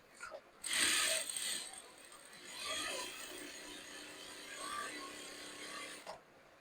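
A sewing machine stitches a shirt, giving a close, mechanical whirring run that speeds up and slows down in several passes, with a short break.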